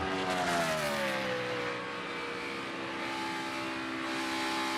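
A NASCAR race car engine at Firekeepers Casino 400 qualifying, a loud sustained high-pitched roar with wavering pitch as the driver works the throttle, continuous and close throughout.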